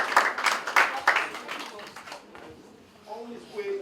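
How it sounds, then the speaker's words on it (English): During a World Book and Copyright Day 2021 event, a small group gives a few sharp, scattered claps that quickly die away. Talking follows. "People, let's clap."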